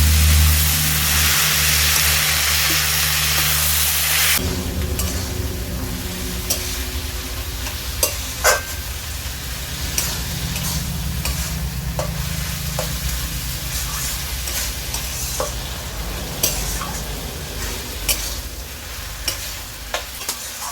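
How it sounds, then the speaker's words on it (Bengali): Chopped banana flower is stir-fried in a pan for a ghonto dish, a steady loud sizzle with a spatula scraping and stirring in repeated strokes, close up throughout. "দিয়ে দিচ্ছি মোচা। ভালো করে মোচাটাকে এবার কষাতে হবে।"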